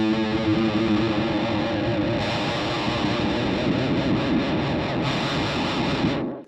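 An electric guitar runs through the Alexander Pedals Marshmallow modulation pedal, giving a dense, wobbling, chorus-like wash. It plays loud and continuous for several seconds, then cuts off abruptly near the end.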